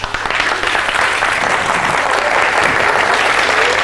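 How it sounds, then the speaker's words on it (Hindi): A large audience claps continuously and loudly, a dense, even wash of applause sustained throughout with no break. "और जैसे ही एक इंसान ताली बजाता है, बाकी सारे लोग फिर उनको फॉलो करते हैं।"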